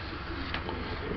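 Pigeons in a breeder's loft cooing softly, a low murmuring coo with a brief brighter call near the end, heard close over a steady background hum.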